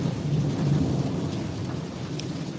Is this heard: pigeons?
no